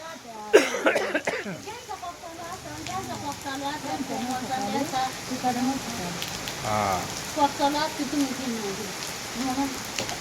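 Heavy rain pours down steadily on a surface outside, a dense continuous patter, with people talking and singing over it throughout.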